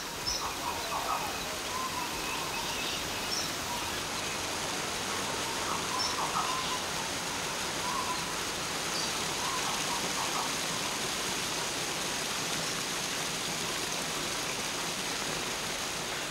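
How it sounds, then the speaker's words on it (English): Heavy rain pours down steadily in a Solomon Islands rainforest, a dense unbroken hiss at constant loudness, with faint bird calls now and then. "they don't call this rainforest for nothing, and it's pouring down at the moment"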